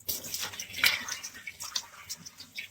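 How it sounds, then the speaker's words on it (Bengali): Tap water splashes and runs over hands and face being washed, a short burst of irregular, close splattering and trickling with no talk over it. "না, আমি হাত মুখ ধুইতেছি।"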